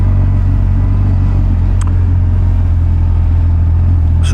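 A car passes close by in commuting traffic, its steady low engine rumble dominating throughout with no talk.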